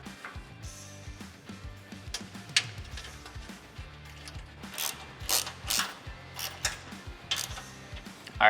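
Quick rhythmic ratchet clicking as bolts are run into an ARB skid plate under a Toyota Tacoma, close and steady strokes of the pawl mechanism with short pauses between runs.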